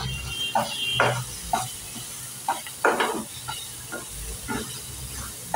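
Masala with garam masala and turmeric sautéed in a pan, with soft sizzling under repeated scraping stirs of a spoon against the pan at an irregular rhythm.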